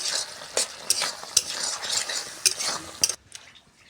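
A spoon stirs potato and pea ghugni seasoned with garam masala in a pan, with rhythmic scraping strokes about every half second over a soft sizzle, close up and alone, stopping abruptly near the end.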